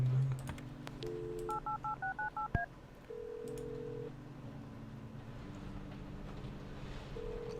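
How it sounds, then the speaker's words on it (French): Touch-tone keypad dialing in the Kathy Rain point-and-click adventure game: a short tone, then a quick rhythmic run of about eight beeps, followed by a longer ringing tone over a steady low background hum. "Tiens, on va utiliser le téléphone."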